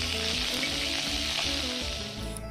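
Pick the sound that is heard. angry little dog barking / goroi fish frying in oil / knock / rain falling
goroi fish frying in oil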